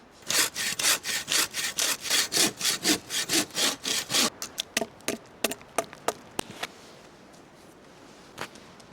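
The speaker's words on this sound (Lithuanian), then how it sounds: "Kol kas mano mylimiausias pjūkliuks." A hand saw cuts steadily through wood in a fast rhythmic series of rasping strokes, then slows into a few scattered sharp scrapes near the end.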